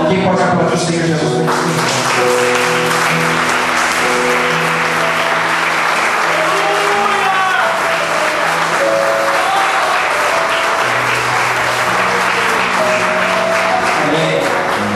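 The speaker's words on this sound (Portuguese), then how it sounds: "Quem pode aplaudir o Senhor Jesus?" Church congregation applauding during a worship service, loud sustained clapping throughout with music and voices underneath.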